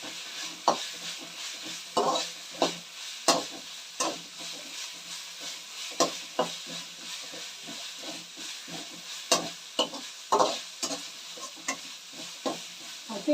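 Ginger garlic paste frying in a pan for egg rice, a soft continuous sizzle broken by repeated sharp scraping stirs of a spatula, close and fairly quiet.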